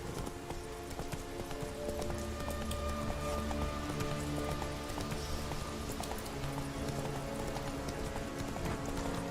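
Hooves of Roach, the horse in The Witcher 3: Wild Hunt, clip-clop steadily and continuously over a constant background of game ambience and music, with no talk.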